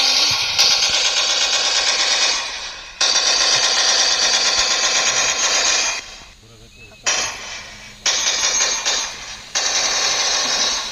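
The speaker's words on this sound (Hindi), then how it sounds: "दुश्मन लगातार फायर करता है" Gunfire during an NCC mock drill, loud sustained bursts of rapid rattling fire separated by short pauses, close and harsh, several bursts in sequence.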